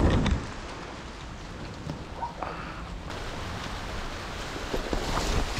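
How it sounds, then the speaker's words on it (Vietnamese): Heavy rain pours steadily outdoors during a bird-nest hunt, a dense continuous hiss that swells slightly toward the end, with no talking. "Mưa to, lại mưa to rồi anh em ơi."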